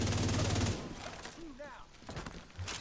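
A loud, rapid burst of automatic turret gunfire rattles in The Division 2 shooter game, then cuts off as a voice talks over quieter game sounds.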